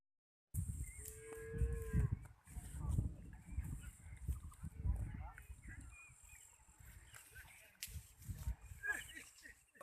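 Cattle brought to the Tarang river for bathing give a drawn-out moo near the start, followed by more lowing and bustle while people talk nearby.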